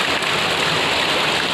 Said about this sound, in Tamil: உங்கள் ஊரில் அந்த மாதிரி மழை பெய்யுதா?